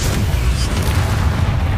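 A Confringo spell explosion in Hogwarts Legacy gives a heavy, rumbling boom with deep low-end weight, loud and sustained through a short burst of game combat noise.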